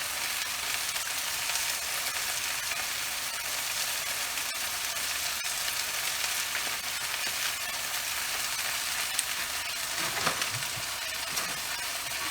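Tomato paste fries in a pan, a steady broadband sizzle running throughout, with a few soft scraping stirs near the end and no talking.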